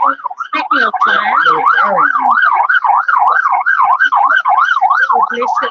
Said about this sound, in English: just gonna wait till the ambulance goes by